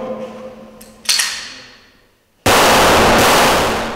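Two sharp gunshots ring out close by during a riot police qualification exam's combined shooting drill, the first with a short echo fading away, the second a loud blast sustained into a long roar.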